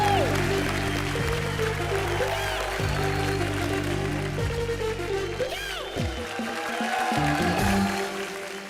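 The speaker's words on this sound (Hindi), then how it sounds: "जोरदार तालियां हो जाए" Studio audience applause on a televised Hindi comedy show, a sustained round of clapping mixed with loud music, with a voice briefly heard over it.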